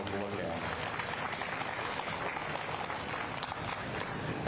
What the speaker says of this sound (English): Let's give these two individuals a round of applause for bringing us two nice animals to look at.